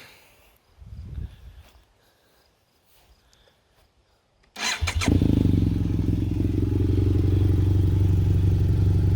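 A BMW F800GS motorcycle sits quietly with faint clicks, then its engine cranks and catches abruptly, settling into a loud, steady, rumbling idle up close for the rest of the clip.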